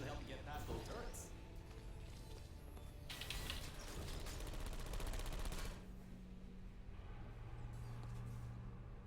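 Automated turrets firing in the video game Portal Stories: Mel, a dense burst of rapid mechanical gunfire that swells in the middle of the clip over a steady game hum, with a voice talking along with it.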